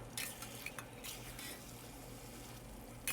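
Congee with fried tofu being stirred in a pot, with soft scraping and clinking of a utensil against the pot rim coming in a few brief taps over a steady low hum.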